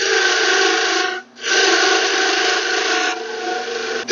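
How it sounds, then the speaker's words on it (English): Skew chisel taking peeling cuts on a wood lathe: a loud, steady broadband shaving hiss over the spinning workpiece, breaking off briefly about a second in, then resuming and continuing to the end, with no talk. "These peeling cuts are a great skill to have with the Skew Chisel."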